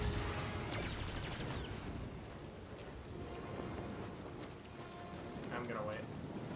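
Steady heavy rain pours in a Star Wars Jedi: Fallen Order game level, a dense constant hiss with low rumbling thunder underneath and faint game sounds scattered through it.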